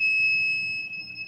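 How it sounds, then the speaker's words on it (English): A water softener salt monitor sounds its low-salt audible alert: a steady, piercing electronic alarm tone held continuously throughout, fairly close and alone, with faint low room rumble underneath. "Whenever the salt level goes low, this audible alert will go off."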